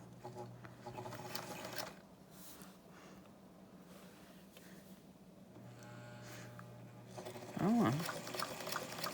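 A sewing machine top stitching the edge of a fabric bowl cozy runs in quiet stretches of steady whirring, stopping and starting, with someone talking softly between passes.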